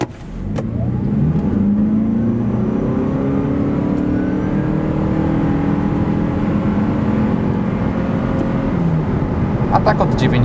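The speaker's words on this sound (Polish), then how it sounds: "CHR plug-in tak przyspiesza od 0 do setki." A Toyota C-HR 2025 GR-Sport plug-in hybrid with a 2.0-litre 223 hp powertrain accelerates hard from standstill to 100 km/h, giving a loud, steady engine drone with rising tones heard from inside the cabin.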